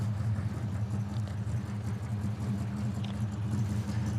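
A 1964 Ford Falcon Futura engine running with its exhaust, giving a steady, low, continuous drone with no breaks, close and fairly loud, with no talk.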